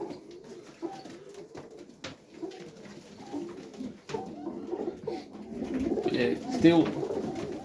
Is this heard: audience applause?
no